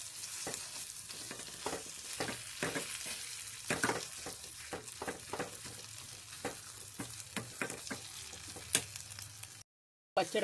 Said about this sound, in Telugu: ఈ నూనెలో కొద్దిసేపు దీన్ని ఇట్లా ఉడకబట్టించుకోవాలి.